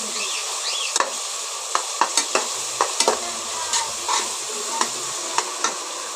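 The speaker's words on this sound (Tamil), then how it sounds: "இப்போ வெங்காயம் போட்டுக்கலாம். வெங்காயம் நல்லா வதங்கி வரட்டும்." Sliced onions sizzle and fry in a pan for vegetable biryani, with a steady hiss broken by repeated scraping and clinking strokes of a spoon stirring them, close up and without talk.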